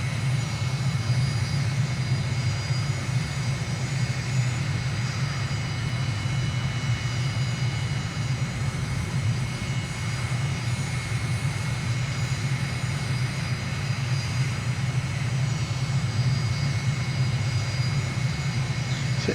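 A steady aircraft engine drone from a plane flying a high downwind leg over Mbabane, Eswatini, in Microsoft Flight Simulator, droning continuously and evenly at a constant loud level.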